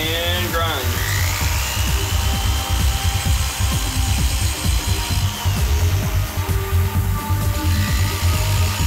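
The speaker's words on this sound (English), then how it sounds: "So chuck your tap into your drill." A power drill whines up to speed and grinds a through tap into a bottoming tap, steadily against metal, with harsh rhythmic scraping and a shifting motor pitch throughout.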